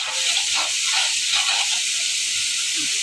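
Spices sauté in hot oil for a curry, a loud steady sizzle and hiss close up that never lets up, with faint scraping stirs now and then.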